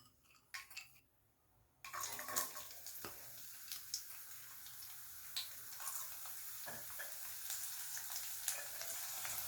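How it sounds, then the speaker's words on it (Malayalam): Hot oil sizzles and crackles steadily as garlic fries after a short quiet start, with a few stirring clinks over the constant frying. "കടുക് പൊട്ടി കഴിയുമ്പം നമ്മൾ എടുത്ത് വെച്ചിട്ട് വെളുത്തുള്ളി ഇട്ട് കൊടുക്കുക."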